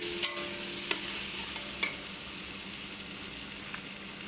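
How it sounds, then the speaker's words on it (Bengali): Fried potato and onion with ground coriander, cumin and turmeric sauté in a pan, a soft steady sizzle with a few sharp clicks of a spoon against the pan. "দিয়ে একটু কষে নিচ্ছি।"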